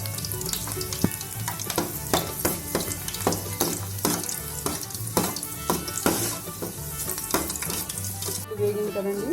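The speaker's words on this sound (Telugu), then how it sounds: "ఇప్పుడు ఇందులో కరివేపాకు కూడా వేగింది కదండి." Curry leaves and garlic fry in hot oil for a spicy puffed-rice snack made from leftover rice, giving a loud, steady sizzle with occasional stirring scrapes throughout and no talk.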